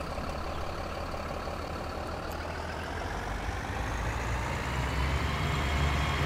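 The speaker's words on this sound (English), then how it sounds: "All right, let's go get the dump truck." A dump truck engine in a demolition company simulator video game rumbles steadily, low and continuous, building slightly louder as the truck accelerates near the end, with no talking.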